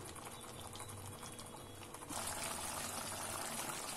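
Country chicken pieces simmering in a pot for biryani, a steady bubbling boil with a faint liquid trickle, growing fuller and louder after the first two seconds, with no voices.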